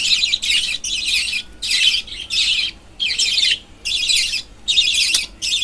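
Pet budgerigars and lovebirds call in loud, repeated bursts of shrill chirping and squawking while feeding their chicks, with about seven close bursts separated by short pauses.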